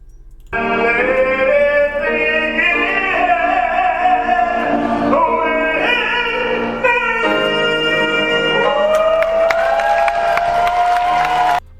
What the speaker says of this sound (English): Look at them all applauding